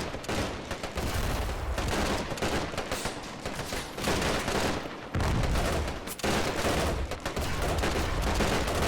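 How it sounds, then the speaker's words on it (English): A Vickers machine gun fires at German troops in a World War II desert battle video game, sustained rapid bursts layered with other gunfire, loud and continuous with brief pauses between volleys. "Vickers machine gun as well, firing at the German troops"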